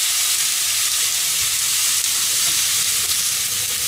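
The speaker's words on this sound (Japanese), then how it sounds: "入った瞬間はジューって音するけど、その後は弱火だから。 じっくり鶏の油を出していくんですね。" Chicken frying gently in oil in a pan over the lowest heat, rendering its fat, a steady close sizzle and crackle that holds even throughout, with no talking.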